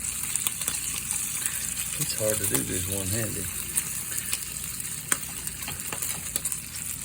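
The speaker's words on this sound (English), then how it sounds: "I hope you can hear those things sizzling" Hog jowls fry in a pan with a quiet, steady sizzle and scattered small pops, while a voice speaks briefly over it.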